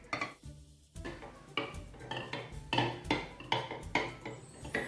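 A utensil stirs chocolate in a bowl set over hot water, giving a repeated, rhythmic scraping and clinking against the bowl, close and fairly loud, with no voices.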